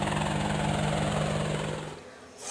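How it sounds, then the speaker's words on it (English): Cartoon rescue helicopter sound effect in a children's dinosaur story, a steady rotor chop with a droning engine hum that holds loud, then fades away near the end. "A rescue helicopter."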